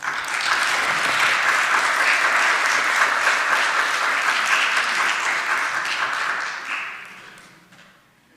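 An audience at a garden club event in La Jolla applauds steadily for about seven seconds to welcome speaker Margie Grace, the clapping dense and even before fading out.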